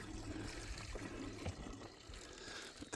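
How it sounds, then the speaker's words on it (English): Water gushing steadily from a hand pump at a campground in Medicine Bow National Forest, a continuous close splashing pour with uneven surges and no voices. "let me pump some water and I'll get back with you"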